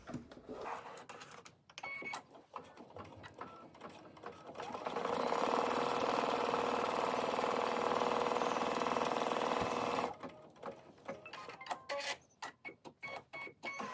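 A sewing machine stitching an appliqué design, working in short bursts before settling into one long, loud, continuous run of rapid stitching, then returning to brief stop-start bursts.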